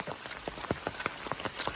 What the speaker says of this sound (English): it's not the AT without rain.